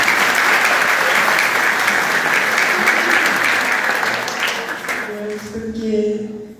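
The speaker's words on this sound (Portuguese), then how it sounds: "Um aplauso para o seu Genil." A church congregation at the closing mass of the Festa do Divino applauds together, a full, close wash of clapping that fades out after about five seconds before a voice begins speaking.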